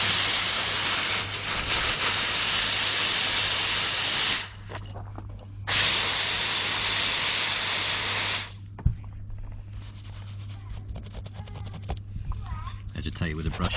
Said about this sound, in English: And steam it out.